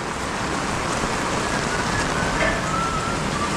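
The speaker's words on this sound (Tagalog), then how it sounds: "Napakahirap talagang gumawa kapag ganito, malakas ang ulan, bagyo." Heavy typhoon rain pours steadily on a construction site, a dense, continuous hiss and patter close by with no talking.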